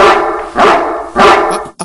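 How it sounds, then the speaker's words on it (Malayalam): A dog barks loudly and close by, two full barks followed by a short, clipped yip, with no other sounds around it. "ശ്രദ്ധിച്ചോ, അവന്റെ കയ്യിൽ ഒരു നായയുമുണ്ട്."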